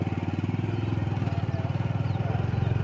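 A motorcycle engine runs close by with a rapid, regular low throb that steadily pulses and slowly changes as it passes, with a voice speaking faintly underneath.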